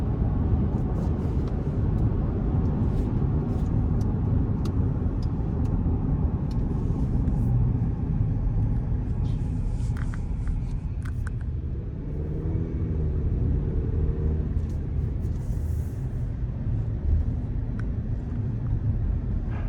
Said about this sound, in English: wind noise is being insulated pretty nicely with it being as windy as it is out